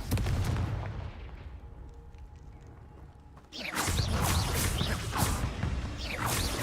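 The Confringo explosive spell in Hogwarts Legacy erupts after a quieter stretch of game rumble, with a loud blast followed by a burst of crackling, booming impacts.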